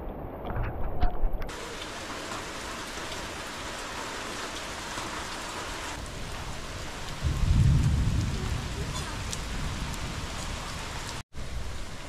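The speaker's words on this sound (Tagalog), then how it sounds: "May kasabay na paggulog at kidlat ang ulan" Steady rain pours down outside a house in a thunderstorm, hissing evenly throughout, while a low roll of thunder swells partway through and fades back into the downpour.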